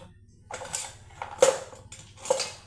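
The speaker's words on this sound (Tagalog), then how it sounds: "Kuha tayo dito ng ulit ng kutsara" A metal spoon scrapes and clinks against a container of Bear Brand powdered milk in three short bursts of scooping, close and clear against a quiet background.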